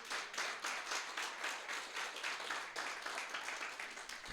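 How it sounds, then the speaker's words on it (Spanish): A church congregation claps together in a quick, regular rhythm, with steady rhythmic hand claps repeating throughout at a fairly quiet, distant level. "dé un aplauso al Señor."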